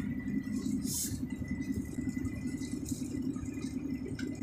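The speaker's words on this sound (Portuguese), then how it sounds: "Dá uma seguradinha no freio motor." Car engine braking on a steep mountain road descent of the Serra de São Marcos, a steady low drone and rattle held throughout, moderately loud and alone.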